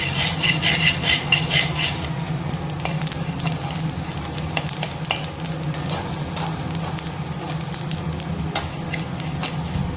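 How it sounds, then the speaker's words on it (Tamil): Red puttu rice is being stirred and dry-roasted in a pan, giving a steady close scrape and rustle with faint sizzling and occasional utensil taps against the metal, continuous throughout with no talking. "சிகப்பு புட்டு அரிசி நல்லா வறுபட்டுருச்சு"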